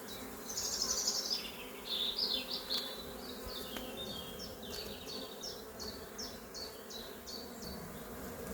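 Honeybees buzz around a small beehive during an inspection of the frames, a close steady hum with repeated louder passes as individual bees fly near.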